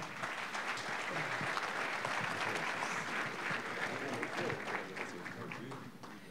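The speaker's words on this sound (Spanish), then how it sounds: "Un aplauso para ellos." Audience at an international youth sport congress applauding three speakers after a question-and-answer session, a dense, steady wash of clapping that holds evenly throughout and tapers slightly at the end.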